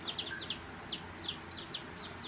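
A young chick peeps repeatedly while being handled, giving a string of high, thin chirps at fairly even intervals, close by, over a soft background hum.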